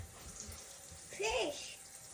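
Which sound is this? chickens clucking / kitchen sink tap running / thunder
kitchen sink tap running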